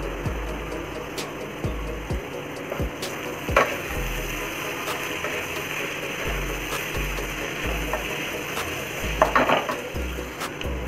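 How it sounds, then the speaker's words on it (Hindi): Vegetables and spring onion greens for chicken fried rice are sautéed over full gas: a spatula scrapes and clanks repeatedly against the pan in an uneven rhythm over a soft, steady sizzle, with no talking. "तो हम फुल गैस पर ही इसको अच्छे से थोड़ा सा सॉटे करेंगे"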